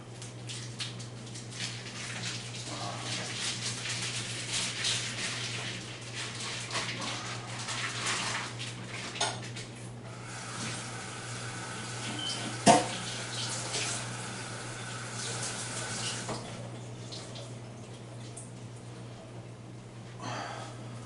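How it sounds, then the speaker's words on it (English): Steady running tap water splashes over a raw beef tenderloin in a kitchen sink, a continuous close hiss with slight shifts as the meat is turned under the stream, one brief knock midway. "So I rinsed it, got all the blood off of it."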